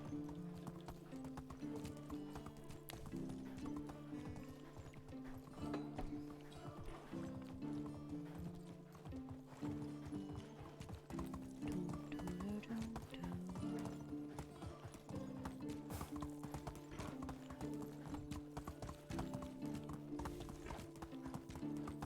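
Horse hooves clip-clop steadily in the medieval survival game Medieval Dynasty, a continuous rhythmic trotting close by with faint snorts, set against a soft background melody and no talking.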